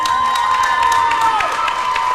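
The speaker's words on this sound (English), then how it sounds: "You can hear the crowd around us getting a little restless" Spectators at a cheer competition keep up a loud, continuous wash of cheering and shouting around the listener, with a few bright tonal sounds threaded through the din.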